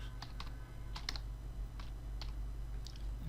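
Computer keyboard typing while entering a filter formula in Power BI, a scattering of close, crisp key clicks in irregular bursts over a steady low hum.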